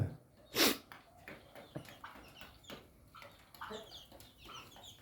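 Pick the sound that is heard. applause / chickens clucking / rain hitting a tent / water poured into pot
chickens clucking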